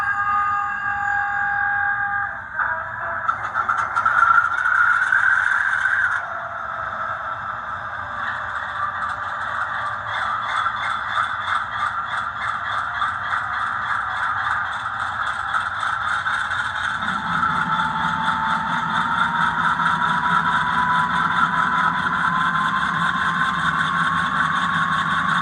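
Sound decoder of a ScaleTrains Rivet Counter HO scale Dash 9 model locomotive, turned up loud, plays a steady diesel engine drone that rises in pitch and settles into a deeper idle rumble, continuous and close with no talking.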